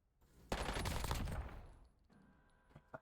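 Rapid automatic gunfire from the C9 weapon on a firing range in Black Ops 6, a loud dense burst lasting about a second that tapers off, followed by a couple of sharper isolated reports.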